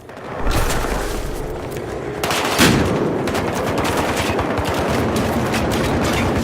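Automatic gunfire with recoil in Battlefield Hardline, long sustained bursts rattling continuously, loud and near, with a heavier thump partway through and a faint voice at times.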